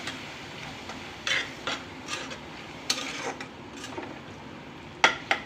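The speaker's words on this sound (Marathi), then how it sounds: "आता आपण काय करूया छान मस्त असं छान सगळं एकजूट करून घेऊया" Spoon stirring veg mayonnaise into a mixture in a bowl for a breakfast pasta dish, giving intermittent scraping and clinking strokes at close range with no talk.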